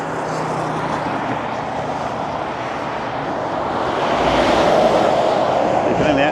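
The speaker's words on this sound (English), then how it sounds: "We can't get away from the traffic. It is loud, isn't it?" Road traffic roars across the Humber Bridge, a steady broadband rush of passing vehicles heard from the walkway that swells louder toward the end, with no clear talk.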